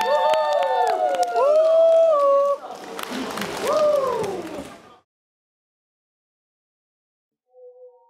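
A studio audience at a Chinese dating variety show cheers and applauds to welcome a singer, with whoops and rising shouts over a broad burst of clapping that cuts off abruptly into silence.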